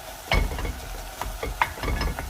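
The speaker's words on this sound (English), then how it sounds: "so this is cooking and browning nicely" Lasagna meat sauce seasoned with dried Italian herbs sizzles in a pan while a utensil stirs it, giving several irregular scraping and clattering bursts over the continuous frying hiss.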